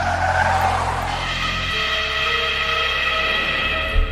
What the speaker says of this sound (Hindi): तभी ड्राइवर जोर से ब्रेक लगाता है।